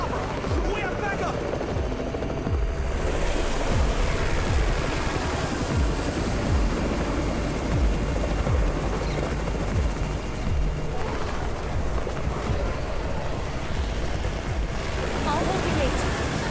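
Continuous helicopter rotor noise with rushing wind in the zombie survival game Undawn, mixed with bursts of gunfire and other game effects, loud and steady throughout.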